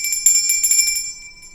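A notification bell sound effect, a bright rapid ringing of quick metallic dings that fades out after about a second, alone and close.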